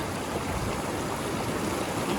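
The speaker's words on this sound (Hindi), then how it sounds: "मिनरल वाटर जो पहाड़ों के बीच से आता है, वो मिनरल वाटर" An icy snowmelt mountain stream in the Himalayan Aru valley on the Amarnath trek rushes in a continuous, close, full-bodied wash of flowing water with no talking.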